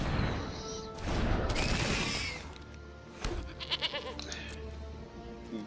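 A goat token in Magic Arena lets out a loud, drawn-out digital bleat, followed by a crash-like hit and a wavering second bleat, with no talking over it.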